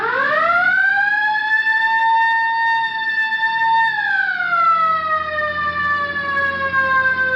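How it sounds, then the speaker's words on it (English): A police car siren wails steadily at close range, a loud sustained tone that holds and then drops in pitch as it winds down, heard alone in a radio drama. "All right, hit the siren."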